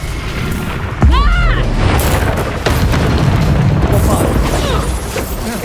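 A Bombarda spell blast from Hogwarts Legacy hits with a loud, close boom and a crackling, whistling burst, then the battle rumbles on with further impacts.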